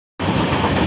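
A passenger train on the Konkan route to Goa rumbles steadily at close range after an abrupt start, a dense continuous rail roar with no voices.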